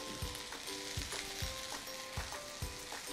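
Parboiled beans for a three-bean rice fry in a pan over high flame, giving a steady close sizzle punctuated by regular stirring scrapes about every half second, with no talking.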